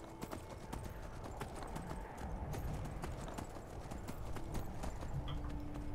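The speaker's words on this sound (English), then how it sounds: "I just must have been hearing my horse." Steady clip-clop of horse hooves at a trotting rhythm in the video game Skyrim, moderately close, with a busy ambient background and occasional faint sounds.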